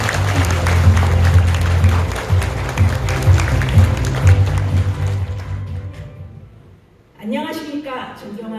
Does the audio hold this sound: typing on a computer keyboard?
no